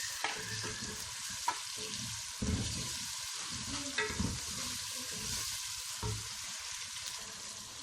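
Tomatoes and spices frying in a pan for chicken korma give a continuous close sizzle, broken by louder scraping stirs every second or two, with no talking.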